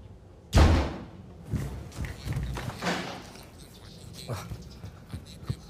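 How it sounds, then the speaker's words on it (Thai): A door shuts with a heavy, loud thud, followed by softer knocks, shuffling and movement sounds in a room. "พ่อปิดประตูเสียงดังไปหน่อย"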